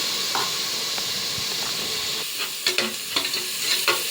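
Tomatoes sautéing in a pan for goat head curry, a steady close sizzle and hiss with intermittent spatula scrapes and stirring clatter toward the end.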